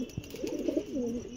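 Pet pigeon cooing close by in a 1.4-second burst of soft, rolling low coos, moderately loud with no talk over it.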